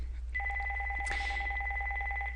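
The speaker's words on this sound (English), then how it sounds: "my phone will ring" A telephone rings for a verification voice call with a steady electronic two-tone ring that runs continuously. A brief sharp click cuts in partway through, over a low background hum.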